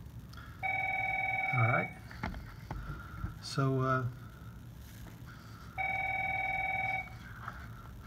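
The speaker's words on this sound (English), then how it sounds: "phone's ringing, but I'm not going to be able to answer." A phone rings in two long electronic trills separated by a pause, moderately loud, while someone talks between and over the rings.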